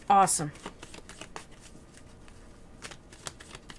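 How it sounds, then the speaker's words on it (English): Tarot cards are shuffled close by in one quick, loud riffling burst, then a run of soft taps and light card clicks. "I'm going to shuffle those cards"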